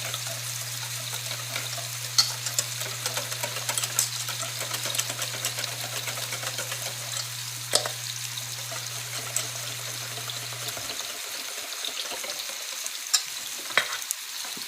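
Ribeye steaks frying in gravy give a soft continuous sizzle and crackle with occasional sharper pops, fairly quiet, alongside a steady low hum that stops partway through; no talking.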